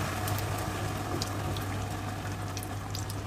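Spice paste sizzling and frying in hot oil for dahi paneer, a steady soft crackle and hiss with a low hum underneath, fairly quiet and continuous.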